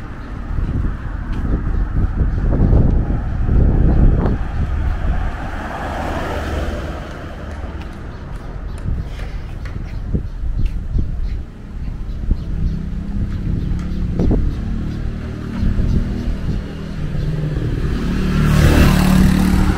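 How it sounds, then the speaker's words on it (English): Wind buffeting the microphone on a street in East Legon, Accra, Ghana: loud, rumbling low gusts that surge and ease throughout, with faint passing traffic underneath. "Very windy here,"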